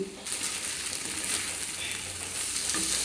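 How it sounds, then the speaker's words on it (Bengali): Rice frying in ghee for prawn pulao, a loud continuous sizzle with scraping stirring sounds close up, no voices. "দেখো পাঁচ মিনিট ধরে আমি খুব সুন্দরভাবে চালটাকে কিন্তু ভেজে নিলাম"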